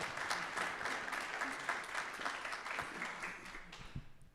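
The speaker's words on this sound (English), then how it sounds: "give him a round of applause" A conference audience claps steadily for several seconds, a dense, even patter of applause with no voices over it.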